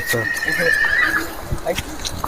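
A horse at a horse market neighs loudly and close, a long whinny rising then falling, followed by a few softer snorts and shuffling sounds.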